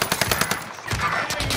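Rapid bursts of automatic SMG fire in a Call of Duty Warzone match on Fortune's Keep, close and loud, with short cracking volleys repeating across the whole moment.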